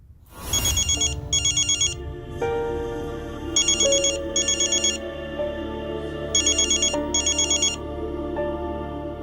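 A phone rings for an incoming call, loud and close, its electronic ringtone repeating in regular bursts of trilling tones over a sustained melodic backing.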